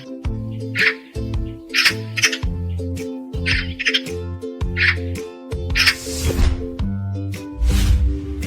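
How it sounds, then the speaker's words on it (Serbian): A black-and-white, long-tailed magpie chattering loudly in a rapid series of harsh, grating squawks, repeated in close, emphatic bursts. "A ovo je svraka, ptica sa crno-belim perjem i dugim repom. Ona skače po granama, glasno grakće"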